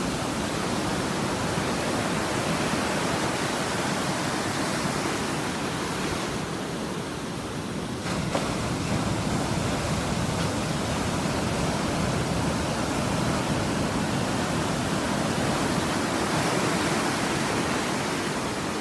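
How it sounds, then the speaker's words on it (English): Ocean waves crash in a steady, dense roar of surf, loud and continuous throughout with no distinct breaks between swells and no voices. "love the ocean crashing waves."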